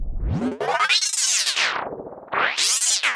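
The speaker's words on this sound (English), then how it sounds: "when we will play with the pitch of the sample, we will get like some sort of artifacts" Pitch-shifted sample played in the Vital synth sampler, sweeping up and down in pitch with grainy, warbling artifacts, loud and continuous for about three seconds with no talking.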